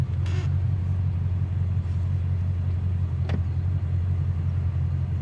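A 1967 Ford Mustang convertible engine idles with a steady, low, even rumble, nearby and unchanging, with a couple of faint clicks over it.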